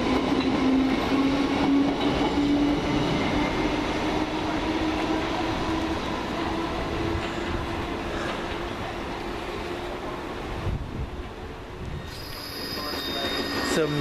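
A London Underground District line train heads away from Stamford Brook toward Ealing Broadway, with a steady motor whine, wheel squeal and rattling clatter that slowly fade as it departs, a brief click near the end.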